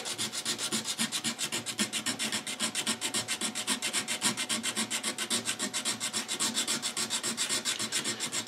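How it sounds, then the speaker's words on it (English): Rapid, even rasping strokes of acrylic hand files scraping back and forth on acrylic, close and steady, with no voices. "these acrylic files really cut very quickly"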